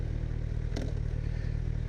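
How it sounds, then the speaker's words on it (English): A Kawasaki Z1000 motorcycle engine idles with a steady low, even throb, close and fairly loud, broken by one brief clatter, with no voices. "Right now the engine is idle."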